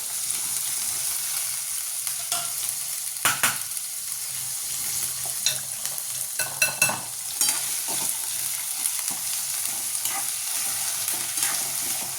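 Guava and other ingredients are sautéed with salt in a pan, producing a steady bright sizzle throughout, broken by occasional scrapes and clacks of stirring, close and fairly loud with no talking.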